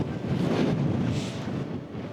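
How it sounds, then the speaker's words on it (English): Strong, freezing wind buffets the microphone in a continuous low rumble and roar, with no voices. "Oh, it's too windy."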